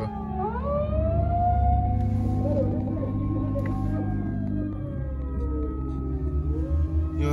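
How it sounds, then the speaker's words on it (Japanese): A fire engine siren wails in long rising and falling sweeps, fairly loud and continuous over a low rumble of traffic. "消防車が。"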